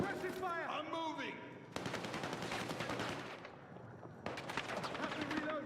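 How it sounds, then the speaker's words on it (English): Suppressive machine gun fire in Battlefield 6, loud rapid bursts of automatic gunfire in two long stretches with a brief pause between, over a busy battle soundscape with a voice heard early on. "Suppressive fire."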